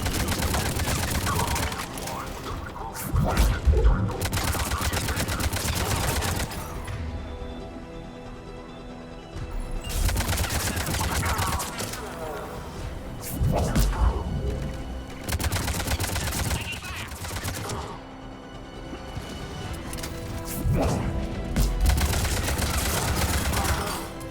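Rapid bursts of gunfire erupt in a Mass Effect 3 battle on Sur'Kesh, repeated rattling volleys separated by brief lulls, fairly loud and steady.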